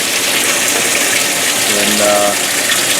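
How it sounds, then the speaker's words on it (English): A washing machine filling with water from its inlet, a steady gushing, splashing rush that runs close and loud for the whole stretch, with a brief spoken word near the start. "Water starts going in."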